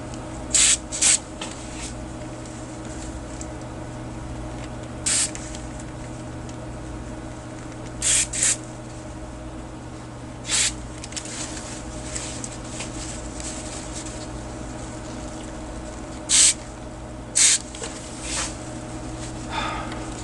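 Short bursts of cleaning spray hiss one or two at a time at irregular intervals onto the controls of a Luxman LV117 amplifier, close and distinct over a steady low hum.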